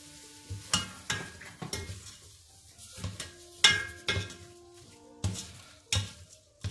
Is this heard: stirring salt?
yes